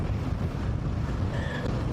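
Strong wind batters the microphone on a motorcycle ride toward Hosur, a loud, continuous low roar and rumble with no speech.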